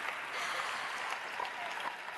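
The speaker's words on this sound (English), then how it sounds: "So another round of applause from Piwa and Nuran, ladies and gentlemen." Audience applause at a World Food Forum closing ceremony for World Food Day, a steady, even wash of clapping that fills the whole stretch without pause.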